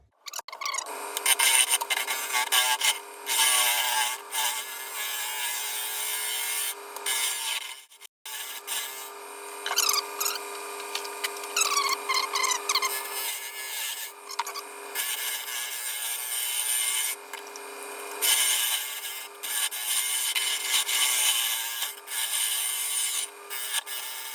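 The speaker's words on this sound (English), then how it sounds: "We're gonna start leveling this face off right here, and then start hollowing out the bowl." A woodturning tool scrapes and rasps continuously against a spinning wooden platter on a lathe as the face is leveled and hollowed, a steady bright cutting hiss with brief pauses and changes in pitch.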